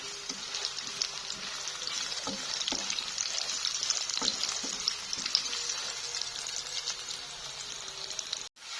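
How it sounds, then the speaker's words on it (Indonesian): Tempeh frying in a home kitchen pan, a steady crackling sizzle with occasional sharper pops and stirring scrapes, continuous and close, no talking. "Aku goreng dulu tempenya biar layu dulu."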